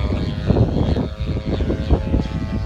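A propeller airplane drones loudly and steadily with a rough, throbbing engine note, held close throughout without any talk over it.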